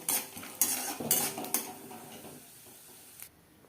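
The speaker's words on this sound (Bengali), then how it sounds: "চিনে বাদাম ভেজে নেব।" Peanuts fry in a pan while a utensil stirs them, making several sharp scraping clinks in the first half before settling into a faint, quiet sizzle.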